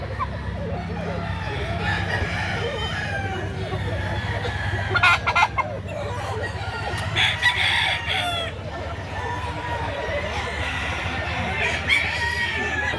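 Roosters and chickens at an outdoor poultry market crow and cluck repeatedly, with several loud crowing bursts rising over a busy background of murmuring voices and distant traffic.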